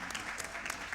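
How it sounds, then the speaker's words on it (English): A crowd at a speedrun charity marathon event claps steadily, with dense applause filling the whole moment at close range and no voices above it. "that's worth a clap."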